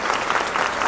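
Loud, dense applause from a crowd welcoming a film's hero on stage, a continuous close wash of clapping filling the whole moment.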